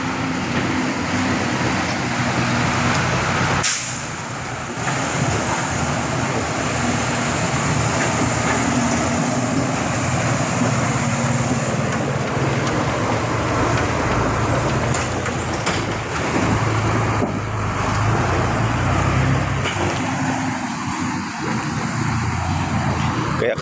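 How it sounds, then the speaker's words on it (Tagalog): Large trucks pass along a broken, rough road in San Mateo, Rizal, producing a loud, sustained engine roar and rumble throughout, with someone talking over the noise. "kasalubong nila yung mga malalaking truck ayan"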